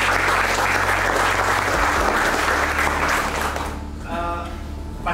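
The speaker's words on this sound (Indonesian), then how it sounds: "Aplaus, kerja keras luar biasa." A football team claps and cheers together in a dressing room after a first home win, a loud dense burst of applause that fades out near the end as a voice starts to speak.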